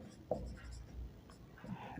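A pen scratches out handwritten class 10 math working on paper, soft close strokes and taps running under a quiet voice explaining the problem.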